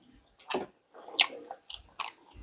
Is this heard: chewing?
yes